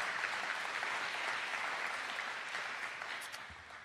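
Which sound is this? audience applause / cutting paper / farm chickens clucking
audience applause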